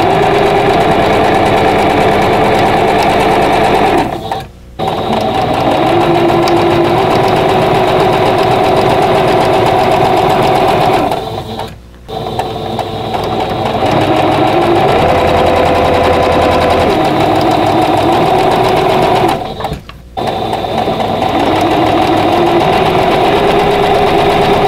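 A sewing machine stitches quilt squares for a vintage quilt block in long, steady whirring runs, close and loud, broken by three brief pauses between seams.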